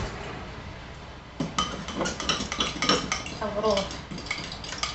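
A whisk rattling and clinking against a pan of gravy, a busy rhythmic metallic scraping that starts after a short quiet lead-in and carries on close and moderately loud, with a faint voice briefly underneath.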